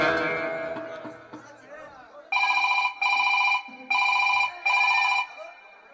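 A telephone bell rings four times in loud, evenly spaced bursts, each trill lasting about half a second, following a stretch of speech and chatter.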